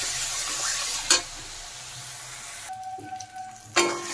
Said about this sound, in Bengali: মশলাগুলো ভালো করে কষিয়ে নিতে হবে।